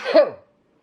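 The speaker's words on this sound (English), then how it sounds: "Okay, I sneeze now." A single short, sharp sneeze, close and loud, bursting out and fading within half a second, followed by silence.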